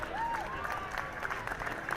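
Applause and light cheering from a street crowd at a St Patrick's Day parade, a steady clapping texture with someone talking over it.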